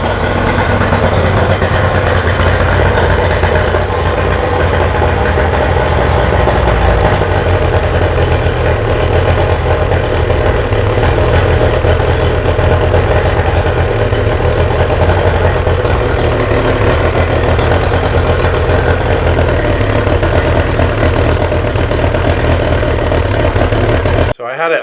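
A boat motor with a rebuilt carburetor idles steadily and loudly for the whole stretch, a constant mechanical drone that cuts off abruptly at the very end.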